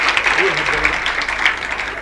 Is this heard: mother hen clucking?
no